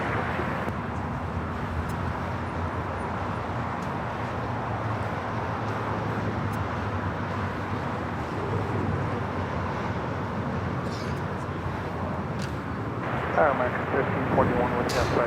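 An airliner lands on runway 5 left at Los Angeles International Airport, its steady broad jet roar filling the whole stretch and swelling slightly near the end, while voices talk over it.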